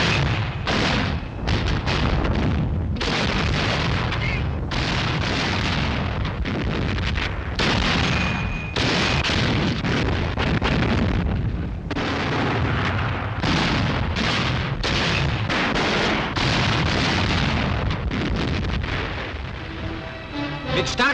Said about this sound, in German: Erkannte Panzerbereitstellungen des Feindes werden von Artillerie und unseren Panzern unter Beschuss genommen.